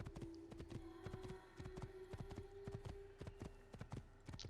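Rhythmic clip-clop of horse hooves from Assassin's Creed, a steady riding gait sounding close and clear with a faint tone underneath and little talk.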